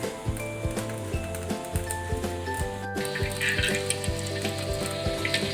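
Food sizzles and crackles steadily in hot oil, close by, with small pops and a few clinks over a constant frying hiss.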